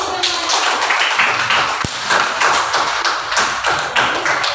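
A classroom group claps after a group presentation during a school lesson. The applause is dense and continuous throughout, with many hands close by.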